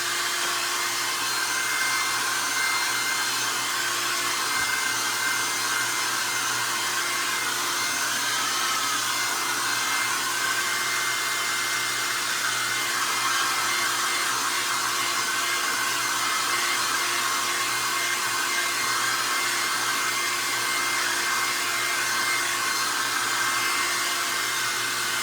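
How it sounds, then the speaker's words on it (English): A hair dryer blows continuously on fresh paint, a steady, close, even whooshing drone with no breaks or voices. "now I'm going to hit this with a hairdryer"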